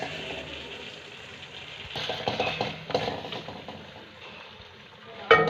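Ground spices (salt, red chili powder and turmeric) are stirred into a fish curry in a pan: quiet, scattered scrapes and taps of a spoon on metal, heard up close over a faint background hum, with no talking.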